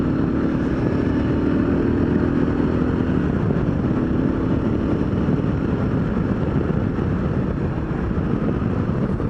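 A motorcycle engine runs steadily and loud for the whole stretch, a constant close rumble with no change in pace, on the first ride of the season.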